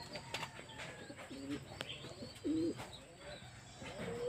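Racing pigeons back home after a race give a few short, low coos, two brief bursts standing out over a busy background of other faint bird calls and chirps.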